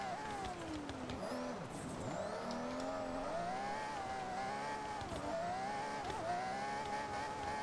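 Drifting car in Forza Horizon, with a steady revving engine whine and continuous tire squeal rising and falling through corners, loud and close throughout, no talk over it.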